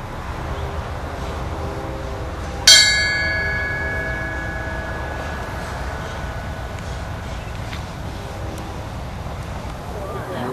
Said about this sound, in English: we'll have the first tolling of the bell